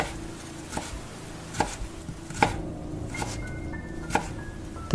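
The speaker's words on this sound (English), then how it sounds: "The chopping sound, coming down the hallway, closer, closer, closer." Rhythmic knife chopping, likely on a cutting board, with sharp irregular thuds spread across the stretch and faint tonal hums in the background.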